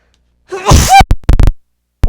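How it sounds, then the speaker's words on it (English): A single loud, close sneeze from a woman with allergies, a sharp explosive burst followed by a few quick breathy after-sounds, with nothing else around it. "As I keep sneezing here"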